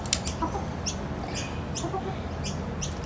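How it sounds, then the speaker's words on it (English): Chicken clucking and short calls out in the open, several brief bursts over a steady outdoor background, fairly faint and no talk heard. "Give it to the chicken so the chicken doesn't bite you."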